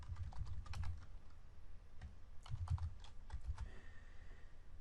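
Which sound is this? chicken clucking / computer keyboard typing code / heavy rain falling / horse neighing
computer keyboard typing code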